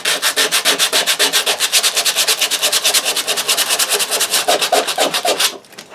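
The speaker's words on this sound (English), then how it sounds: "100 grit sandpaper." An axe handle being sanded by hand with 100 grit sandpaper gives fast, rhythmic, close rasping strokes, about eight per second and loud and even, stopping abruptly near the end.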